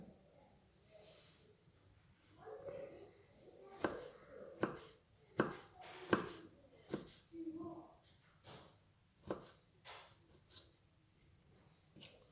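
A knife chops small pieces of fresh ginger on a cutting board, sharp distinct knocks coming in an irregular run of strokes with brief pauses, close and clear, with no talking over them.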